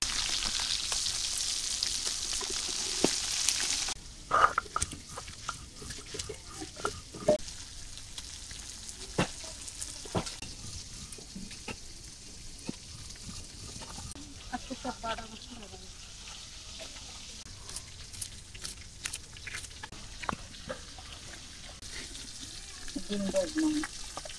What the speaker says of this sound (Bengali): মায়ের মাছ ভাজ দিয়েছে